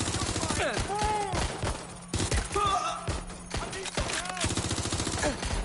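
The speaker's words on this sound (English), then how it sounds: "Shots fired!" Rapid bursts of gunfire from the video game Watch Dogs Legion crackle almost continuously, loud and close, with repeated volleys and short automatic strings layered over game sound effects.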